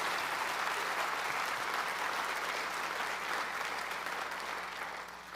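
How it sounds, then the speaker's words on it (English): Sustained applause from a college convocation audience honoring athletics, a dense, even clapping that fills the room and fades slightly toward the end. "Could we give a round of applause to our athletics?"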